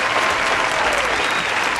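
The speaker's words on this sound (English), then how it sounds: "Thank you for the applause." Sustained, dense applause from a crowd, loud and continuous throughout with no pauses or voices over it.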